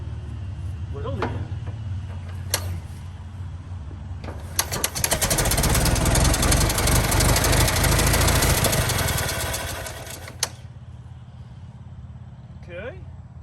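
The engine of a 1916 Federal Motors truck, unused for more than 50 years, cranks and runs roughly for about six seconds with a loud, ragged clatter, then dies back to a quiet background. People talk around it.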